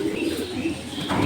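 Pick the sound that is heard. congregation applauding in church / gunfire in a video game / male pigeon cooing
male pigeon cooing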